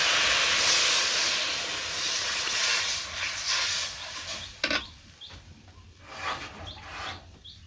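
Vegetables fry in a pan in a village kitchen with a loud, dense hiss and sizzle that swells and fades, broken by a few sharp clinks and taps.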